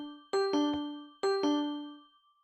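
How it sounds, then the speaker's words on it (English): A Japanese train door closing chime recreated in Minecraft: two clean bell-like ding-dong phrases of three descending tones each, clear and ringing, the second fading out. "Then we have the Japanese George closing chime"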